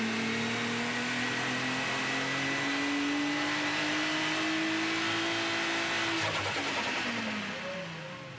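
A turbocharged 3-litre VR6 strains on a dyno, its loud engine note climbing steadily in pitch through a long pull before cutting off sharply and winding down near the end.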